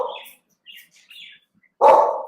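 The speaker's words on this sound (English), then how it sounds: "what are you barking?" A dog barks twice, close and sharp, once at the start and again near the end, with faint bird chirps in between.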